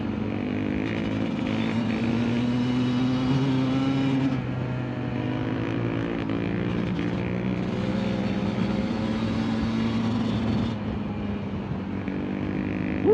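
A KTM dirt bike engine drones steadily and loudly throughout a ride in Moab's Beef Basin, its pitch rising and falling slightly with throttle and wind rushing past, with no talking.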